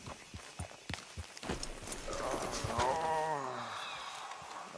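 A horse's hooves clip-clop at an uneven pace in a video game, close and clear, and a neigh-like whinny rises over the last couple of seconds.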